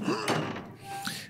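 A door opens in the video game Resident Evil Village with a heavy thunk and slam near the start, followed by fainter clunks, while a voice talks over it.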